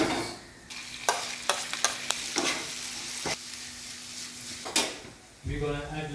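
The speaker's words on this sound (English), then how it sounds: "I'm going to add my tomatoes." Tomatoes go into sautéed onions frying in a pan for pasta alla Norma, with a soft sizzle under sharp spoon clicks and scrapes against the pan. A louder, brighter burst of frying comes near the end, with no talking.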